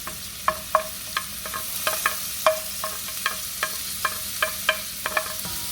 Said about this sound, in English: And then we're going to add our veggies and get those babies sauteed up.